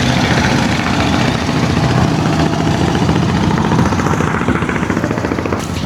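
A trawler boat engine on the Buriganga river runs continuously with a loud, close, rough diesel chugging, steady throughout without pause.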